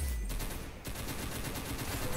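Heavy gun fire in the video game Arsenal, a dense continuous burst of rapid automatic shots that fills the whole short stretch, loud and close with no talk over it.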